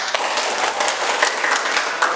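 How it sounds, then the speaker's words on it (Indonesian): Students in a classroom clap their hands in a brief, dense burst of quick overlapping claps, fairly close and loud, lasting about two seconds. "Oke, tepuk tangan dulu ya."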